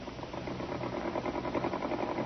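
A sewing machine runs steadily at close range, its rapid mechanical stitching rhythm humming without pause.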